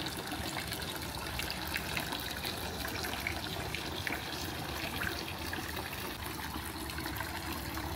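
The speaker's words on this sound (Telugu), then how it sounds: "టెంపుల్ చుట్టూ కూడా మనకి ఏంటంటే ఇట్లా వాటర్ ఫౌంటైన్ టైప్స్ చాలా పెట్టారు" Water fountains around a Buddhist temple splash and trickle in a steady, continuous wash of running water, moderately faint and unbroken, with no voices.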